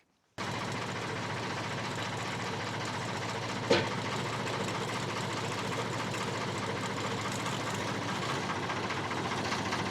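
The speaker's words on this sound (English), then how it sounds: "road leveling with this tractor and tool" A Ford 4000 tractor engine runs steadily while leveling a road with a tool, a constant loud mechanical drone with one brief sharp knock partway through and no talking.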